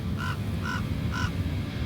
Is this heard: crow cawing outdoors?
yes